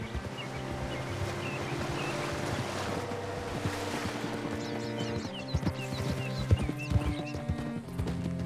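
Horse hooves clip-clop at a steady walking rhythm in Red Dead Redemption 2, mixed with game ambience, water sounds and an occasional snort, with no talking.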